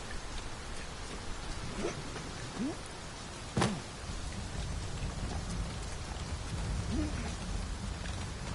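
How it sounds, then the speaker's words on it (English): Steady rain falls in the video game Dragon's Dogma 2, a constant hiss across the whole stretch, with a brief sharp crack of thunder near the middle and a few faint distant calls. "It is raining still."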